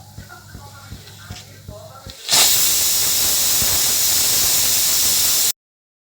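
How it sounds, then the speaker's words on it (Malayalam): A pressure cooker cooking beef bursts into a loud, steady hiss of escaping steam that lasts about three seconds, after quieter kitchen sounds, then cuts off abruptly. "8 വിസിലടിച്ചിട്ട്"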